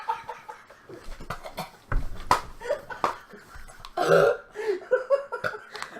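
A loud, drawn-out belch stands out amid scattered bursts of laughter and background voices, followed by a few shorter croaky sounds.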